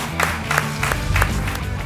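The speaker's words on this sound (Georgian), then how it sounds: "აპლოდისმენტები გავაკეთებთ" A studio audience at a comedy game show gives a short burst of clapping, several quick rhythmic waves of applause heard up close.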